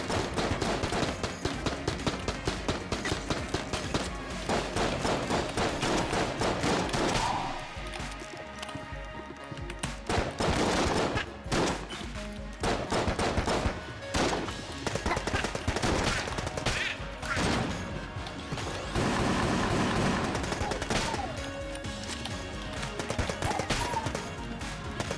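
Nonstop automatic gunfire in Enter the Gungeon with the fire button held down, a dense, loud stream of rapid shots layered over game music, with brief lulls between bursts.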